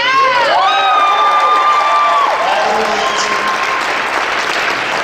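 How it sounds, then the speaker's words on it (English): A crowd at a bodybuilding championship in Wyoming applauds and cheers for the athletes on stage. The clapping is loud and sustained, with a shrill whistle or shout rising above it at the start. "give a round of applause to all the amazing athletes behind you."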